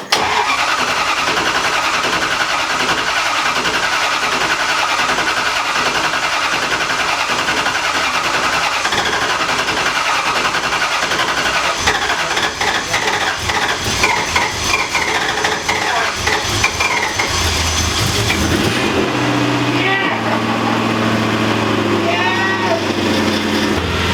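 A Nissan S13 with a newly installed engine cranks over and over in a long, rhythmic, loud grind, then catches and settles into a rough idle near the end.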